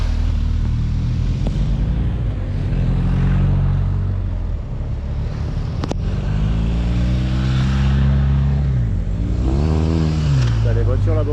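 Cars driving past near the roadside at a women's cycling race stage, the Simac Ladies Tour, with engine rumbles swelling and fading several times and a sharp click midway, while people talk nearby.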